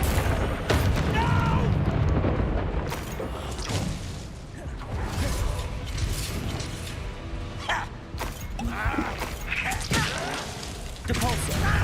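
A fire spell is cast in the video game Hogwarts Legacy, with repeated booming, whooshing bursts layered over a dense, continuous mix of in-game effects and background noise.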